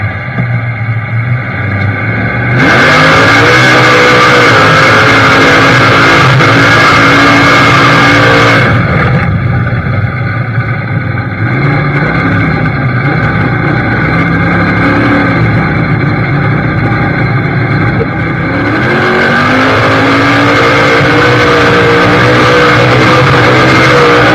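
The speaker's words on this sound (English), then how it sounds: "and then both hands are on the wheel, and then the truck shifts" A truck engine revs hard and loud, its pitch climbing and dropping as the driver shifts through the gears, a steady roar that carries on for the whole stretch with no talking over it.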